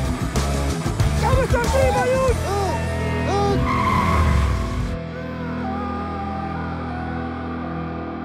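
A stolen police car skids through an escape in a film chase, tires squealing in sharp repeated bursts over engine noise before the sound cuts abruptly to a quieter background.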